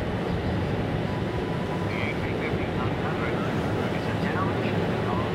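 An Airbus A350 XWB jet airliner on approach during a flight display at Changi East airbase, Singapore, producing a steady, moderately distant jet roar throughout.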